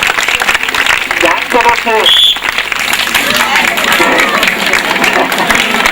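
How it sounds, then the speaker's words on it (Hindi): An audience claps at a birth centenary ceremony at a gurukul in Hisar, with applause running steadily under and around a person speaking. "तालियां बजाइए"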